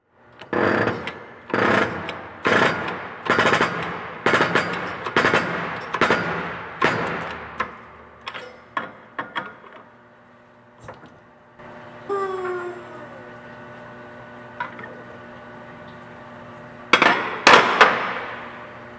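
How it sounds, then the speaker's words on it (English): Metal clanging and hammer-like blows from pressing a bearing onto a Club Car transaxle shaft during a 1997–2013 transaxle rebuild, a rapid series of loud, close strikes that slow and thin out, then a few ringing metallic taps and a final clatter. "we just finished pressing that bearing in"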